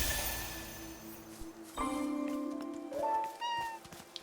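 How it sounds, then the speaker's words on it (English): A cat in the video game Infinity Nikki meows in drawn-out, wavering calls, close and clear over a soft musical background, with a couple of separate mews following. "Pat the cat."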